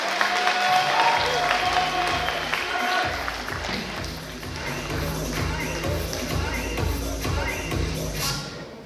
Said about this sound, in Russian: Аплодисменты, мирно,